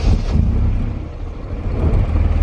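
A Kawasaki KRX side-by-side engine starts up with a new resonator fitted, giving a deep, low rumble that stays steady and fairly loud at close range for a couple of seconds.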